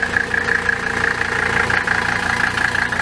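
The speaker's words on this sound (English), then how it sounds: "Silva's got the Merc running." A Mercury outboard engine on a boat idles steadily nearby, a low even rumble with a faint whine held constant throughout, no voices.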